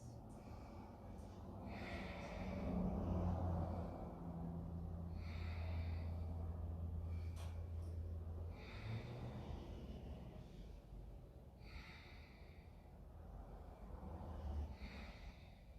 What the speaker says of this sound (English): take several long, deep inhales and exhales.